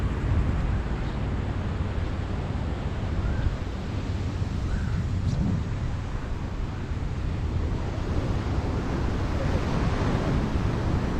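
Steady surf and wind on a beach on the south coast of Sri Lanka, a continuous broad wash of breaking waves with gusty wind buffeting the microphone throughout.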